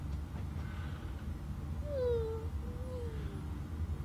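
A cat in the video game D4 gives a single drawn-out meow over a steady low background hum, fairly faint and with no voices.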